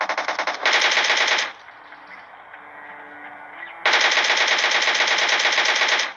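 Automatic gunfire in PUBG rattles out in two loud sustained bursts of rapid shots, close and dominant, separated by a quieter pause of about two seconds.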